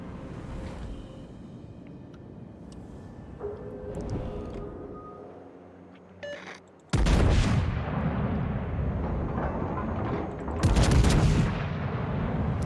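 Incoming shell fire during a World of Warships naval battle: heavy booming blasts arrive suddenly and dominate, with a second loud burst after a short lull, over constant engine and water rumble and no talk.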